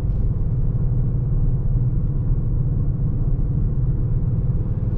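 A 2021 Skoda Octavia RS with a 245 hp engine cruising through the city at night, a steady low full-bodied drone and rumble from inside the cabin, continuous with no talking.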